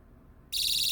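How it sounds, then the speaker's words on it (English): After a brief quiet moment, the rear-mounted alarm buzzer on a Boruit V10 EDC flashlight switches on abruptly and holds a loud, steady, piercing tone. "You get a red and blue flash with the buzzer that's on the back end"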